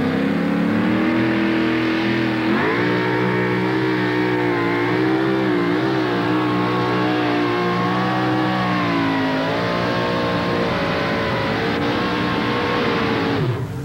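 A super modified two-wheel drive pulling truck at a 1987 Nashville truck pull, its engine roaring loud and sustained through a run, pitch rising and dipping as it strains, close and continuous with no talk.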